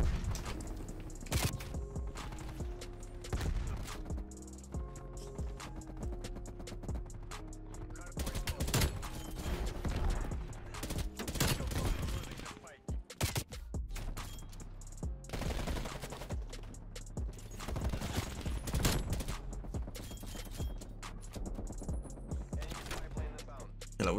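Rapid gunfire fills a first-person shooter video game, with dense bursts of automatic shots and mechanical clicks that continue almost without break and pause briefly midway.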